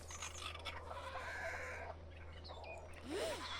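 Several hens cluck softly nearby while a rooster named René joins in, with scattered calls over steady farmyard hum and a rising squawk near the end.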